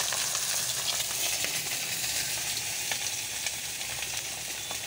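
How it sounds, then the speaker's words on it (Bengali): Fish belly pieces fry in hot oil with a constant broad sizzle and scattered pops and crackles, steady and close for the whole stretch, with no talking. "আর এখানে দেখো মাছ ভাজা হচ্ছে"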